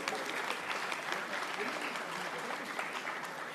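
Steady audience applause at a constitution day event at a forensic sciences institute in Lucknow, welcoming a guest speaker; dense, continuous clapping from a sizeable crowd, moderately loud and even throughout with no talk over it.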